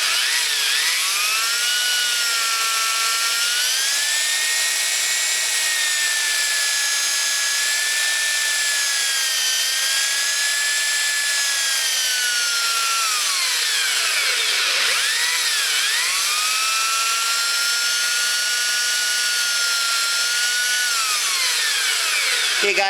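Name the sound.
polishing a copper ring on a polishing machine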